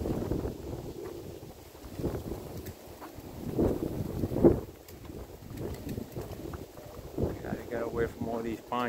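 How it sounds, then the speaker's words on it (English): Strong gusting wind buffets the microphone outdoors among pine trees, a continuous low roar with surges, and a voice speaks briefly toward the end. "Oh, it's windy. Very, very windy."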